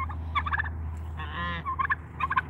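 A turkey gobbles on a small farm with free-range chickens, guinea fowl, ducks and geese, giving several loud rapid rattling gobble bursts close by over a low steady background hum.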